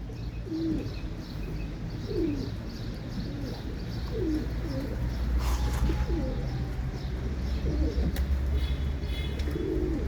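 Kelebek (butterfly) pigeons coo in soft, repeated rolling calls, several birds close together over a constant background hum, with occasional brief chirps and rustles.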